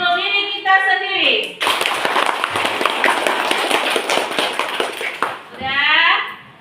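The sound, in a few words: class clapping hands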